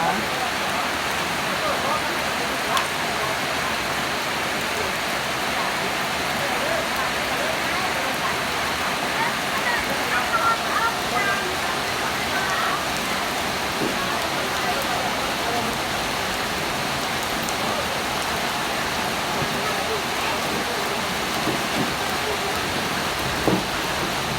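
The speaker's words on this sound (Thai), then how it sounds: "เนื่องจากว่าฝนตกเนาะ" Heavy rain falls steadily for the whole stretch, a constant broad wash of pattering near a house, with occasional faint voices and small knocks beneath it.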